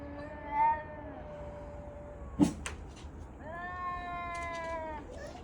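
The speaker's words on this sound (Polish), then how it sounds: "jakieś dwa koty się kłócą pod moim balkonem" Cats yowl in long, wavering cries, one rising drawn-out call after another, with a sharp knock or clatter in between; moderately near, no talking.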